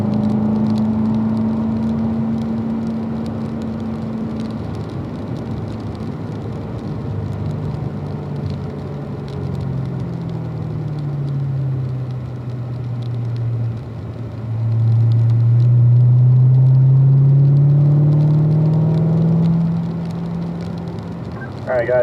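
Race car engine droning steadily as it laps a track, with pitch sliding down then climbing again under acceleration, loud and close with road rustle beneath.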